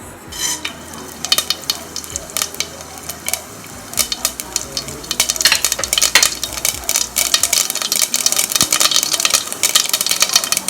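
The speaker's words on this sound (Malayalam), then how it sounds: "അപ്പൊ നമ്മള് ഇതിലേക്ക് കടുക് ഇട്ട് കൊടുക്കാം" Mustard seeds crackle in hot oil in a pressure cooker. Sparse pops at first grow into rapid, loud crackling bursts over a low sizzle, close up.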